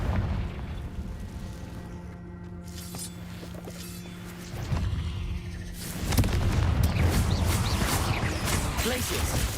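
Confringo spell blasts in Hogwarts Legacy: deep booms and crackling bursts ring out amid ongoing game sound, swelling into a denser, louder barrage in the second half.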